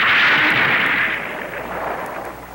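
Gunfire in a battle scene from the Spectreman TV series, heard as a loud, dense wash of shots and blasts that tails off a little toward the end, with no talking.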